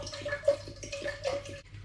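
Spring water poured over tea bags into a saucepan, about a litre, makes a close, gurgling, splashing stream with small rhythmic pulses before it stops.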